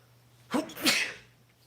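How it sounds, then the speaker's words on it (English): A single close sneeze with a quick inhale and a sharp burst of breath. "I'm going to sneeze."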